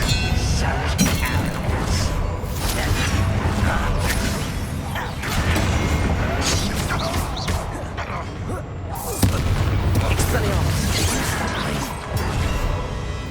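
Bombarda explosion spell in the Hogwarts Legacy video game, loud booming blasts and crashing impacts in a dense, continuous battle mix, with fresh bursts near the start, middle and later on, amid swooshes and clattering debris.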